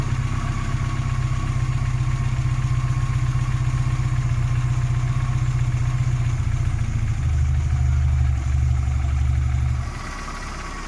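Car engine held at high RPM during an ignition timing check, a loud steady drone that stays even for most of the stretch before dropping to a lower idle near the end.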